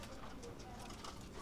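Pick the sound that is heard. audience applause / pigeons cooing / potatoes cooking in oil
pigeons cooing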